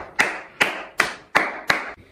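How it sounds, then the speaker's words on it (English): Five separate, evenly spaced claps ring out sharply in a room, a slow, deliberate round of applause with short decaying tails and no talking. "I think it deserves a round of applause."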